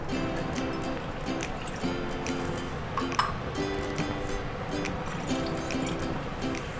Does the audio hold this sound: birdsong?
no